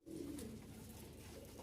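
A Rajshahi Giribaz pigeon gives a steady low cooing, continuous and faint at close range, with no voices over it.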